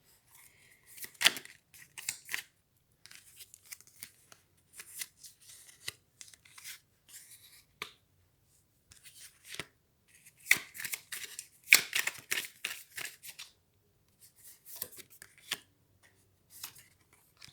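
Tarot cards are handled and shuffled close by in a string of dry, papery riffles and flicks with short pauses between bursts, and no one speaks over them.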